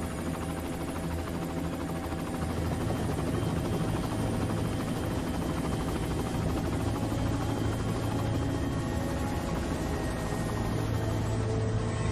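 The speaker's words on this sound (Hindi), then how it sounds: "सर, हम लैंड करने वाले हैं।" A helicopter rotor and engine drone steadily and loudly throughout as the aircraft comes in to land, with a constant dense thrum and no voices over it.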